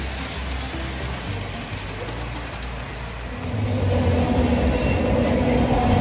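Double-stacked freight train rolling past nearby, a loud continuous rumble of wheels on rails with a rising clatter as more cars go by, no talk.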